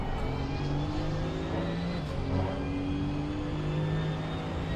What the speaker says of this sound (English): Driving this 935 car